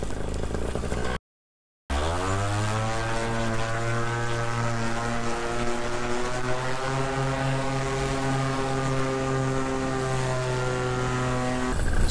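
Several paramotor engines and propellers droning as pilots fly overhead at a camp-and-fly weekend in North Carolina; a loud, steady buzzing hum with a rising pitch sweep as one engine revs up, continuous throughout.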